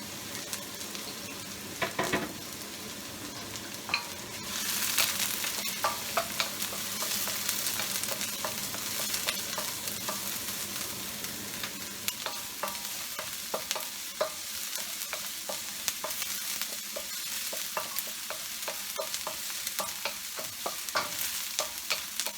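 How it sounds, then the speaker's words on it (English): Fish with chopped deseeded jalapeno is stir-fried in a wok on high heat, giving a continuous loud sizzle with frequent scraping and tossing strokes throughout and no voices. "So it's in a wok on high heat."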